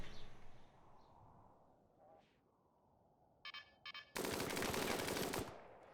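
Automated gun turrets firing in the RimWorld video game: after quiet ambience and a few short rattling bursts, a loud sustained burst of rapid gunfire dominates for over a second before stopping.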